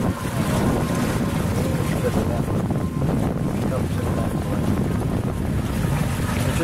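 A sailboat runs through the Baltimore Channel toward a lighthouse, with constant loud wind buffeting the microphone over the rushing wash of water against the hull, steady throughout.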